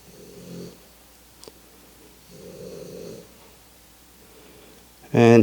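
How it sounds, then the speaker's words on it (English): A dog snores softly nearby in a quiet room, two slow, drawn-out rumbling breaths a couple of seconds apart, followed by a sudden loud burst of a voice at the very end. "someone snoring, it's my dog"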